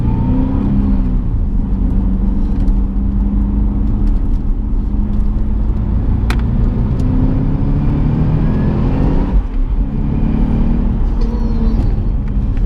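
Cadillac CTS-V V2 accelerating hard, a steady loud engine roar with deep rumble and rising harmonics running throughout, heard from inside the car with no talking.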